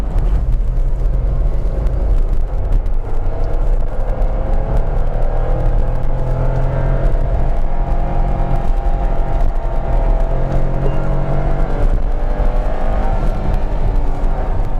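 A Nissan Magnite's three-cylinder engine revs hard in second gear up to 6,500 RPM, a loud, sustained climbing drone with steady road rumble underneath, no talk.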